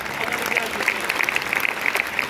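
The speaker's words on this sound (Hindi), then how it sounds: "एक बार जोरदार तालियां।" Loud applause from the crowd at an outdoor poetry gathering in a park, quick sharp claps bunched together in a busy, continuous burst, with voices murmuring underneath.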